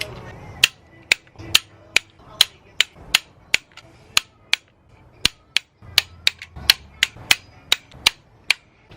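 Sharp, regular clicks ring out as a torque wrench tightens cylinder head bolts on a rebuilt junkyard Honda B18C-R engine to 80 foot-pounds, about twenty crisp clicks in quick bursts with short pauses, close and clear.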